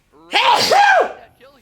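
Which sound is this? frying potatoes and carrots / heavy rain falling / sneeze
sneeze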